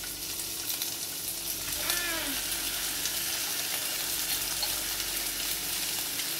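Beef poured into a hot pan with garlic sizzles and fries with a steady, loud crackling hiss that stays constant throughout, with a brief clink of utensils near the start.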